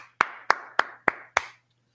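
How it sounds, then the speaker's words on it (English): Five crisp, evenly timed claps from a congregation at a brotherhood class, struck together in a steady rhythm and then stopping, leaving quiet. "Let's clap it up for the brotherhood class"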